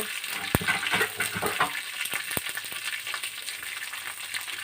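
Ivy gourds frying in a covered pan with a steady, close sizzle and a few sharp clinks as they are stirred now and then.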